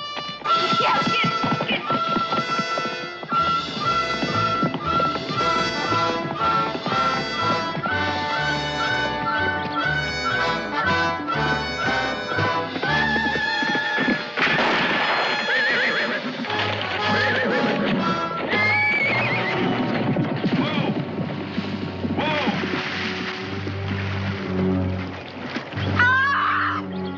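A gun-shy horse in a frontier TV drama bolts, neighing with hooves pounding, mixed under loud, dense orchestral music that runs throughout.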